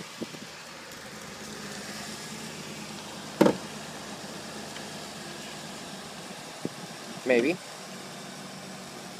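A 2009 Jeep Liberty Limited with a 3.7-liter V6 idles at a low, steady rumble throughout, with a couple of sharp knocks and a clatter breaking through and a brief spoken word.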